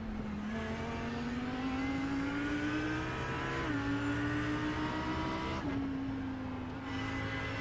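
An Audi GT3 race car accelerates hard on track at Road America, its engine tone climbing steadily through the gears with brief dips at upshifts, loud and continuous with no voices.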